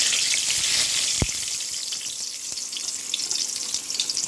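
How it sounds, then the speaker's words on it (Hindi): A bay leaf dropped into hot oil in a wok makes a steady, close sizzle with a brief crackle near the start, continuing alone without talk. "देखिए कढ़ाई में तेल गर्म हो गया है, तो इसमें सबसे पहले डाल देंगे तेज़पत्ता"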